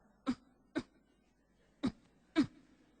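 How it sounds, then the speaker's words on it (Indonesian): Four separate coughs or throat-clearings ring out from an audience during a Sunday church sermon, spaced irregularly across a quiet room with faint background hum. "Jangan ditahan, batuk silakan."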